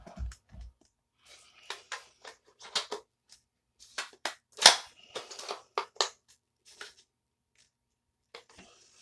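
A Classic Army DT-4 airsoft AEG firing BBs at close range, scattered sharp clicks and snaps in uneven bursts against a quiet background.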